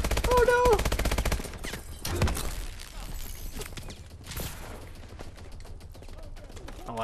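Dense bursts of automatic gunfire and single shots from the Call of Duty: Advanced Warfare campaign rattle almost without pause, loud and close, while a player talks excitedly over the shooting.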